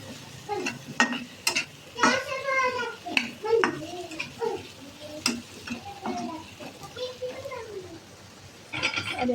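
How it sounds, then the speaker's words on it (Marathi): Drumsticks (moringa pods) with coriander sautéed in a pan, with scattered scraping and clinking of a stirring utensil and soft sizzling, while a voice talks over it. "शेंगालाही चांगलं परतून घ्यायचं आपल्याला."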